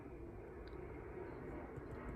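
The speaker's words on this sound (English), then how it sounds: "Sorry for the plane going by." An airplane passing overhead outdoors, a steady low broadband roar that holds evenly throughout at moderate distance, with no voices.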